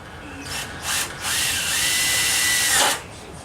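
A power drill drives screws into wooden garage roof trusses in short, loud whirring bursts, rising to one sustained run before stopping, heard up close with no talk.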